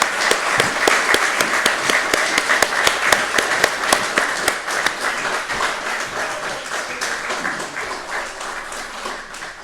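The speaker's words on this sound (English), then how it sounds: "So kind of a round of applause for Lynn, please." An evening gathering bursts into loud, dense applause for Lynn, many hands clapping close by with a few sharp individual claps standing out, then gradually thinning and easing off.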